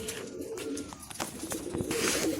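Pigeons coo softly and repeatedly at close range, their low rolling calls overlapping with faint background noise.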